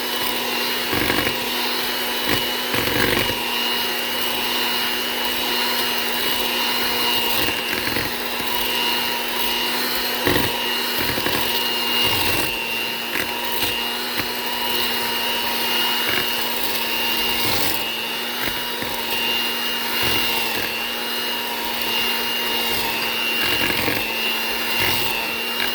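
An electric mixer whirs steadily through marble cake batter, a continuous mid-level motor drone lasting the whole stretch with small bumps and knocks from the bowl.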